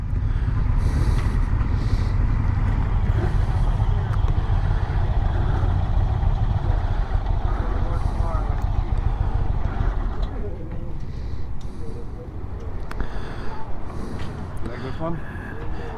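An Indian Sport Chief motorcycle engine idles with a low, steady rumble at a demo day, loud and close at first, then easing slightly as it continues under background activity.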